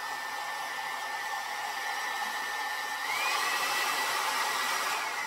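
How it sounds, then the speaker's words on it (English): A hair dryer blows steadily at close range, a constant airy whoosh with a faint whine that shifts slightly and grows a little louder partway through, with no talking. "when I turn it on, there's really like a blower sound, so it's a little noisy"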